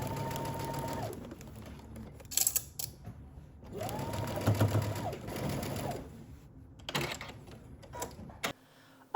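Sewing machine stitching the crotch seam of a pair of pants, close and clear in two short bursts of rapid whirring, with fabric handling and clicks between and after.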